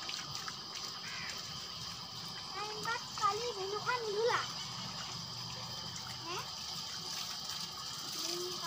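Water pours steadily through a drain pipe into a backyard pond, a continuous near gush that runs the whole time, with a voice and bird calls faintly above it.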